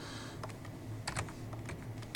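A short command is typed on a computer keyboard, a quick, uneven run of light key clicks close by with a sharper tap at the end.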